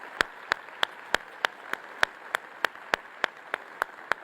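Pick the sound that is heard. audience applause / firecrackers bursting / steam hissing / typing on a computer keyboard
audience applause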